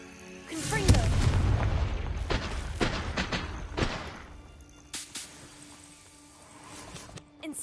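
A Confringo blasting spell in the Hogwarts Legacy video game sets off a heavy booming explosion, followed by scattered bursts and thuds that decay into a quieter rumble with smaller pops.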